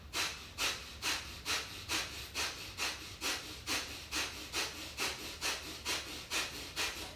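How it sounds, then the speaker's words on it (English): Rapid Kundalini yoga breath of fire: a steady, quick run of forceful nasal exhalations, about two per second, close and even in rhythm with no talking. "And begin. Breath of fire."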